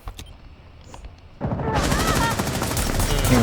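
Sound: gunshots in a video game

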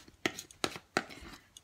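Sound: knife chopping kaffir lime leaves

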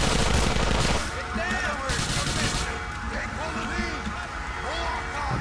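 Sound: gunfire in video game GTA: The Ballad of Gay Tony

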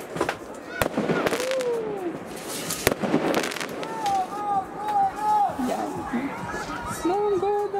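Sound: New Year fireworks

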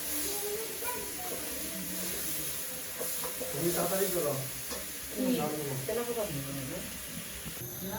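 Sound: turmeric and chili frying in pan for peanut curry, stirred

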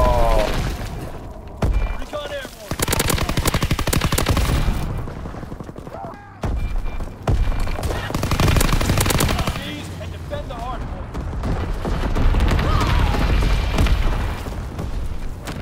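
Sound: Lewis machine gun fire in video game Call of Duty WW2

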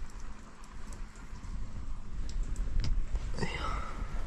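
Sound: rain heard from inside a camper van

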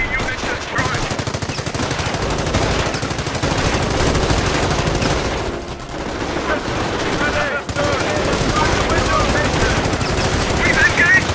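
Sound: gunfire from enemy infantry in the video game Company of Heroes

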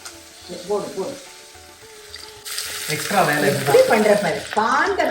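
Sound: tempering (thalippu) sizzling as it is added to the rice

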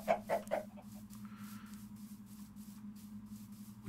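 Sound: chickens clucking in video game

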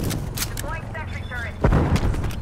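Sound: Semtex grenade explosion in video game Call of Duty Black Ops Cold War

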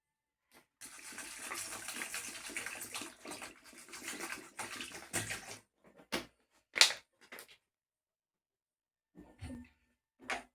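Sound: water poured to wash silver items

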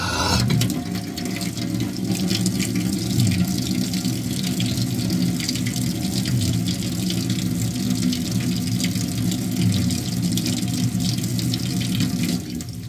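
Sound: water running from a tap

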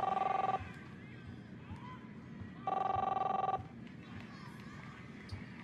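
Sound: telephone ringing in video game Captain Spirit

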